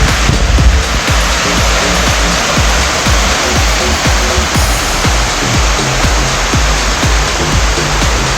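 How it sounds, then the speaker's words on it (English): Marys Falls pours in a loud, steady, broadband roar of rushing water that fills the scene without a break, heard close up with no voices. "I'm in the Marys Falls area."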